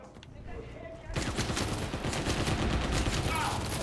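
Rapid gunfire in the first-person shooter CrossfireX on Xbox Series S, a dense, loud burst of shots starting about a second in and continuing steadily after quieter game ambience.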